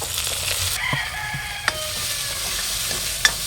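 Fennel, cinnamon, cloves and small sambar onions frying in a pan, a continuous bright sizzle with a few sharp spoon clinks against the metal, no voices.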